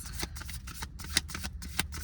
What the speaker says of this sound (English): Let me pull some cards for you guys